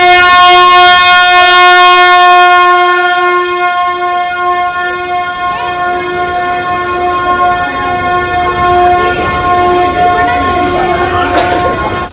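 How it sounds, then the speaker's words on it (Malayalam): The Ooty toy train arrives at a station, sounding a loud, long steady horn, then rumbling and clattering wheels as it draws in close. Voices murmur faintly underneath. "അങ്ങനെ നമ്മൾ രാവിലെ തുടങ്ങി കാത്തിരുന്ന നമ്മുടെ ട്രെയിൻ ഇവിടെ എത്തിയിട്ടുണ്ട്."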